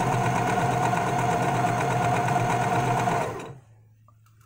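A nearby overlocker (serger) stitches fabric with a steady, fast mechanical whir that holds for about three seconds and then stops abruptly, leaving only a faint low hum; there is no talking.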